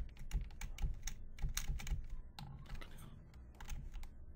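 Keys on a computer keyboard are pressed for Photoshop shortcuts in a quick, uneven run of close, crisp clicks and taps, with no voices.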